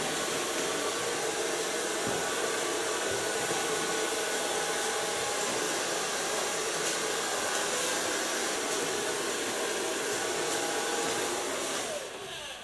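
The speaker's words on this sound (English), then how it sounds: "So far blow drying." A hair dryer blows steadily and loudly on hair during a cut and styling session, a continuous close roar that holds for a long stretch before dropping slightly at the end. No one speaks.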